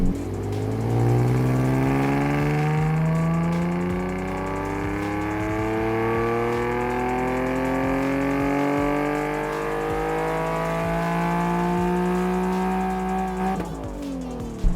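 A Nissan 370Z NISMO with Cobra high flow cats and V2 short tail exhaust revs up, its engine note rising and sweeping smoothly for over ten seconds before dropping off, loud and close.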